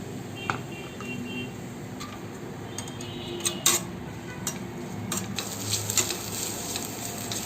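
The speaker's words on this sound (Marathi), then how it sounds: "कांदा भाजायसाठी आपण 1 चमचा तेल टाकणार आहोत आणि कांदा गुलाबी होईपर्यंत आपण परतत राहणार आहोत।" Chopped onion sautéing in a spoonful of oil for Malvani chicken rassa, a soft steady sizzle with occasional sharp ticks and scrapes of a spatula stirring the pan.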